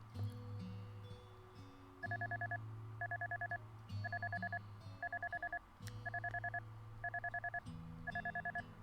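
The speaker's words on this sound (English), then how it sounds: "My phone alarm rang." A phone alarm rings in a regular pattern of short repeated electronic two-tone bursts, about one per second, clear and close over a quiet background with a low hum.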